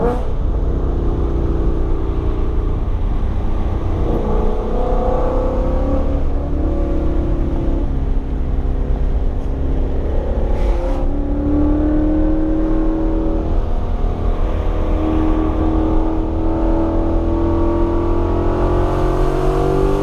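A 2020 Mustang GT V8 with a Corsa exhaust and muffler and resonator deleted revs repeatedly, its loud, close exhaust note rising and falling in steady pulls with no talk over it.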